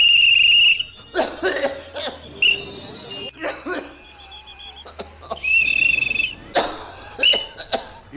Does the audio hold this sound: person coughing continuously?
yes